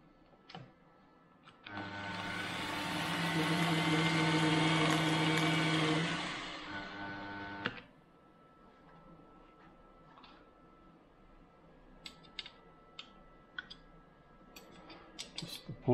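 An Optimum MH28V mill, newly converted to belt drive with its pulley slightly out of alignment, spins up and hums steadily for about six seconds, then cuts off, leaving a few faint clicks and taps.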